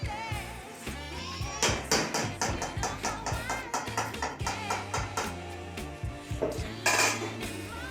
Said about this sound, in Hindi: अब हम इनको एक दफ़ा चम्मच चला के देखते हैं, ठीक है ना, कि हमारे राइस नीचे तो नहीं लगे।